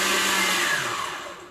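Electric kitchen mixer whirring as it mixes salt into bread dough, a steady loud motor drone that gradually fades over a second and a half.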